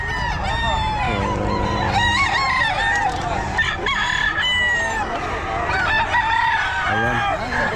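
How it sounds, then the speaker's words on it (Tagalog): Many chickens crow and cluck together at a pet market in Bocaue, roosters calling over one another in a loud, busy chorus with a person's voice underneath. "Ang daming manok"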